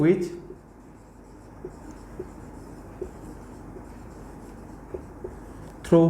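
A teacher writes on a board in a classroom during a lesson, giving a faint, steady scratching texture with a few soft taps, while the room otherwise stays quiet and voices are heard only at the very start and end.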